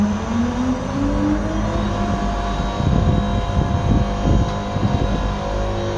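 A tower crane's VF hydraulic hoist hums and whines with a rising pitch as the hook lowers at full speed, then a rough, rattling motor grind builds in the middle and continues steadily.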